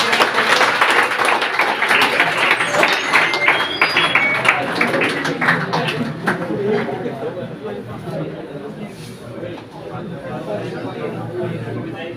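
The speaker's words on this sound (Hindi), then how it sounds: "तो सभी तालियों के साथ सर का स्वागत करेंगे" Students in a classroom clap to welcome a teacher at a motivational seminar, a dense burst of applause that starts loud and slowly thins out, with chatter mixed in.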